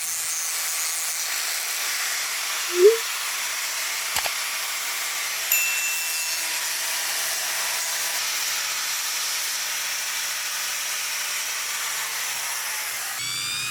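Cut edges of a coconut shell are sanded smooth, giving a continuous, even hiss that holds steady throughout, broken by a couple of faint knocks early on.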